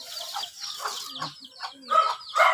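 Several close chickens cluck and squawk in short irregular bursts, with louder calls near the end.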